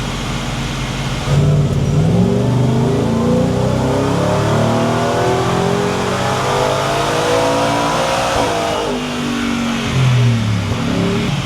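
A 2023 Ford Raptor R engine revs hard on a dyno, its loud, sustained roar climbing in pitch through a pull, easing, then rising again, close by with no voices.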